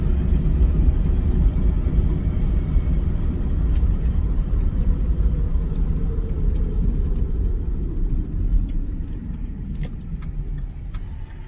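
A 1999-2004 Ford Mustang with the 3.8 V6 and automatic transmission drives along, heard as a steady low engine and road rumble from inside that gradually eases in loudness, with faint clicks near the end.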